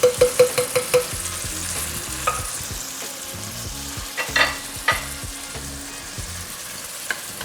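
Rajma curry with canned cherry tomatoes is stirred in a pot, starting with a quick run of sharp spoon knocks, then a steady bubbling sizzle broken by scattered scrapes and clinks.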